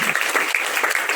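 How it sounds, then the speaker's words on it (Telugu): A congregation claps for a priest at a church gathering, a dense burst of applause filling the whole moment, with a faint voice underneath. "ఫాదర్ గారు గట్టిగా ఒకసారి చప్పట్లు, 2 చేతులు గట్టిగా"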